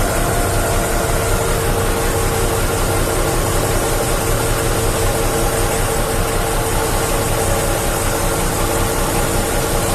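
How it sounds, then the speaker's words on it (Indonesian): Heavy tronton dump truck with a loaded bed, its diesel engine held at a steady high, raised throttle to drive the hydraulic hoist, a loud, constant droning rumble close by with no talk. "Berarti harus tambah gas kalau ada muatannya ya."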